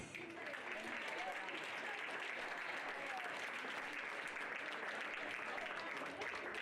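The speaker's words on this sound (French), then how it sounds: "Mesdames et messieurs, je vous demanderai d'applaudir Capucine Château-Rondeau" Steady, dense applause from an audience at a 2019 pony eventing prize-giving ceremony fills the whole stretch, a continuous wash of clapping hands at even volume.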